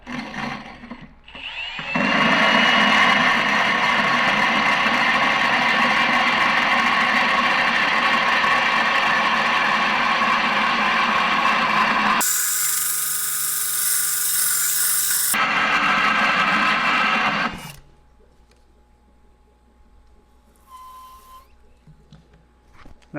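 A loud, whining drill bores a hole through aquarium glass, grinding steadily for about fifteen seconds with a brief pitch shift midway, then stops, leaving faint tapping and quiet noise.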